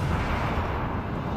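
Battleship guns fire in the naval combat game World of Warships Legends, a loud, dense, rumbling blast that fills the whole moment with heavy low boom and sustained roar.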